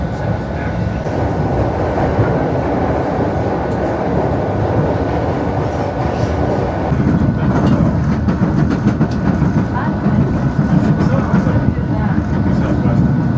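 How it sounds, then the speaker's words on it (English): A Chicago elevated train rumbles along rails with rhythmic clatter, growing heavier midway, close and loud, with some voices faintly underneath. "In Chicago, most of the trains go over top"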